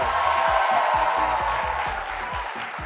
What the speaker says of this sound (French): Je voudrais un tonnerre d'applaudissements pour mon complice DJ Abdel.